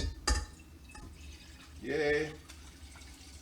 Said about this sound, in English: Filling up the water with filtered water.